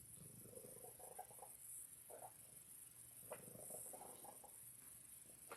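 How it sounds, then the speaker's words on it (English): Harry the cat purrs steadily on a lap, a soft continuous low rumble in gentle bursts, close but faint, with no talking. "I sure hope you guys can hear me over the noise of Harry's purring"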